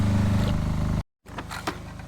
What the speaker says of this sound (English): The noise you hear in the background is from the generator.